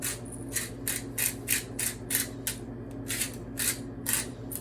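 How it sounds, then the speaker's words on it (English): A hand pepper mill grinds fresh black pepper over a pot of soup, giving a steady run of about a dozen dry, ratcheting crunches close by, each twist distinct, with no talk. "we're just going to grind enough fresh black pepper"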